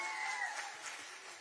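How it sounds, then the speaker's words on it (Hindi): A crowd at a political rally in Bhattiyat, Chamba, claps for the mothers present, a dense, steady wash of applause heard from some distance, continuing throughout. "माताओं के लिए ताली बजाओ जरा जोर से भाई।"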